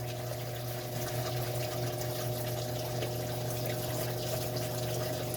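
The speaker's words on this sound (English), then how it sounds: "Now, let's go ahead and clean this up in the parts washer." A parts washer pump runs steadily while flushing old grease from a 1979 Mercedes 300SD wheel bearing, giving a continuous close hum with liquid splashing and trickling throughout and no talk.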